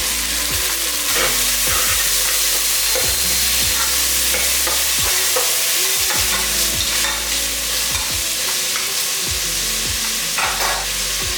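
Small tomatoes tipped into a hot pan for mutton curry sizzle steadily and loudly, broken by repeated scraping stirs and soft clunks of a spoon against the pan, with no one talking.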